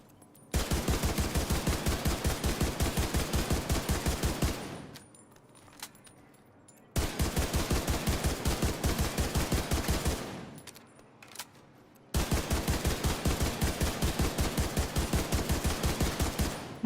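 ACR SS rifle in The Division, fired in three long full-auto bursts of rapid, evenly spaced loud shots separated by brief quiet gaps with faint game ambience.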